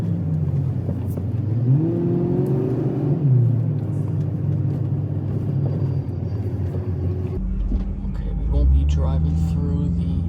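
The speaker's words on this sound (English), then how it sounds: "Driving through the drive-up section, but we will park right here." A car rolls slowly through the drive-up lane of a former bank, its engine rumbling steadily close by while people talk over it, with a brief low surge near the end as it pulls in to park.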